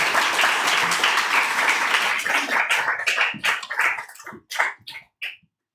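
An audience at a poetry reading gives dense, sustained applause that thins into scattered individual claps and dies away within about six seconds.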